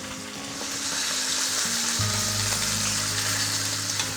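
Pieces of food brown in a hot pan, sizzling and frying steadily and close by, with a deeper crackling layer joining partway through as the cooking continues.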